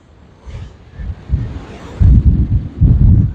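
Gusty wind buffets the microphone in low, rumbling bursts that grow stronger and louder toward the end.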